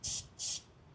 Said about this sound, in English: we'll spray it with some soapy water